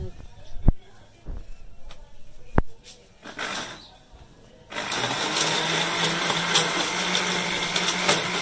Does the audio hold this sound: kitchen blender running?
yes